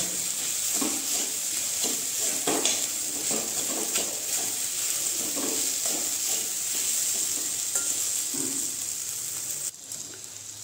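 Sabu dish with sugar and pepper powder being stirred in a pan, a soft sizzle under scattered spoon scrapes and taps at an uneven rhythm, close by.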